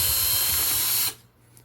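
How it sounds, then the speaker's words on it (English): Power drill boring a hole through a cabinet door pull template, a loud steady high whine for about a second that stops abruptly into near silence, with no talking. "I'm going to go ahead and drill a hole through there carefully"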